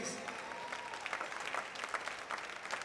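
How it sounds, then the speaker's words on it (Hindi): A crowd claps steadily at a dance prize event, a dense patter of many hands at moderate distance, sustained throughout. "तो जोर से तालियां बजाइए प्लीज"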